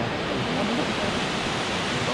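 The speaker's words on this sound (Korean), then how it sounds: "와 이게 흰수염 폭포네 진짜 뭔가 물이 끝에서 보면 하얗다" Shirahige (White Beard) Waterfall in Biei, Hokkaido, gives a steady, dense rush of falling water that stays even and continuous throughout, close and fairly loud, with no clear talk over it.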